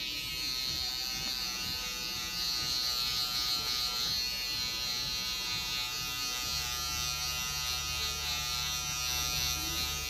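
Electric hair clippers buzz steadily and continuously while cutting curly hair into a stacked bob, a close, even drone that holds for the whole stretch.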